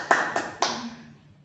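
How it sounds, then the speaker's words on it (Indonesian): Three sharp claps ring out in quick succession, each followed by a fading room echo, with no voices. "Tepuk tangan untuk Bu Yuni."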